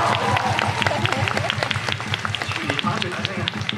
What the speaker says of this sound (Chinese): 俾啲掌聲